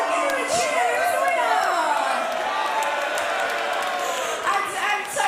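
An audience at a chessboxing show cheers and whoops for the winner of a world light heavyweight title bout, steady crowd noise with a voice talking over it throughout.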